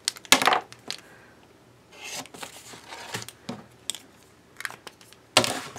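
Paper for a Coptic-bound journal is cut with a blade in a few sharp, close strokes, separated by softer rubbing and handling noises, with a final crisp slice at the end.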